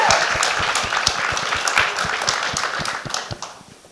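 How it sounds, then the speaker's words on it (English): An audience at a West LA mayors forum on the unhoused crisis gives steady applause for Mayor Freddy Puza, with dense hand clapping and some sharp nearby claps, tapering off toward the end. "Everyone give a round of applause for Mayor Freddy Puza."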